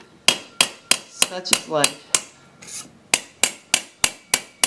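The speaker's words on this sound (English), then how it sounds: "I'm going to just keep hammering." A small hammer taps repeatedly on the end of a wire on a jeweller's bench to spread it into a rivet head, giving sharp, bright, evenly spaced strikes close up, briefly interrupted by a few spoken words.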